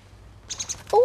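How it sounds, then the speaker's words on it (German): A blackbird sings near the Rappbode dam in the Harz: a few quick faint chirps, then a brief, clear whistled note at the end, heard over quiet outdoor background. "Oh, ich dachte schon, aber das ist die Amsel."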